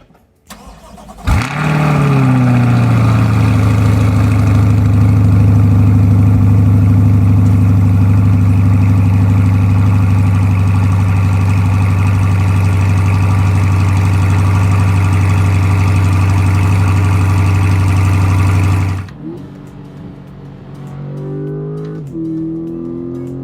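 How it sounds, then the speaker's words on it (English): A C8 Corvette's V8 engine fires up with a sharp bark, then idles with a deep, loud, steady exhaust rumble for about twenty seconds before shutting off, exhaust in sport mode. "when it comes to the V8 noise of this car"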